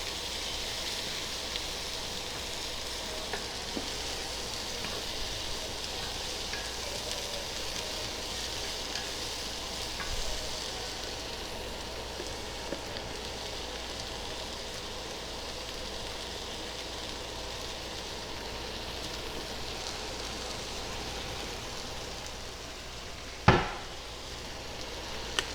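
Sliced mushrooms sizzle steadily in a hot pan for nearly half a minute with a constant bright hiss. Stirring adds faint scrapes, and one sharp clank of a utensil rings out near the end.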